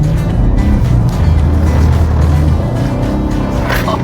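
BMW M2 drifting around a corner with driving aids off, a loud continuous engine roar with shifting low tones and rough tire noise, close and steady, with a brief high squeal near the end.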